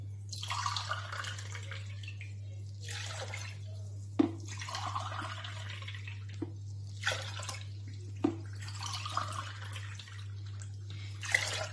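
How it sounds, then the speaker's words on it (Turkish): Water poured into sugar in a pot for baklava syrup, a splashing, gurgling pour in several bursts with short pauses, over a steady low electrical hum. "O yüzden hemen suyumuzu da katıyorum."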